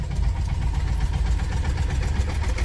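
Tractor engine runs nearby on a rural road with other tractors passing, a loud, steady low chugging idle with a rapid knocking pulse throughout, no voices heard over it.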